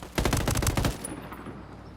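Rifle fire rings out in a quick run of sharp, loud cracks packed into under a second, followed by a fading tail that dies away into quiet.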